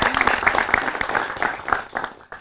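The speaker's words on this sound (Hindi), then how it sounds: "ताली बजा सकते हैं अपने लिए" Students in the studio audience of a live TV news discussion about the NEET UG 2024 exam clap for themselves in a brief burst of dense, fairly loud applause that fades at the end.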